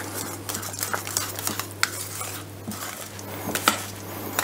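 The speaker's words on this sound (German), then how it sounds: "Und dann rühren wir das Ganze vorsichtig zusammen." A spoon stirring a potato rösti filling of quark and yogurt in a bowl: repeated wet scraping and soft clinks against the bowl in an uneven rhythm, close and fairly loud, with a faint steady hum beneath and no speech.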